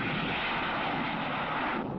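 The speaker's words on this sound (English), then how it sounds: "they can send jet interceptors into the sky toward the enemy" Jet interceptor aircraft from 1950s Strategic Air Command footage roar in a steady, loud, broadband engine rush that fills the whole two seconds without a pause.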